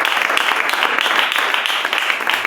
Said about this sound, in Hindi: फिर से तालियां देंगे सब